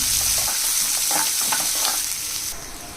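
Onions fried in a pan for a tempering, with a loud, close sizzle and stirring that eases off slightly near the end.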